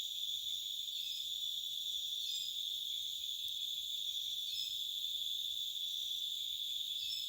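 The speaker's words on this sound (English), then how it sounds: "Hear the birds, crickets" Crickets chirping at dusk in the countryside of rural Jamaica, a steady high-pitched insect drone with layered trilling, continuous and fairly faint, with no voices.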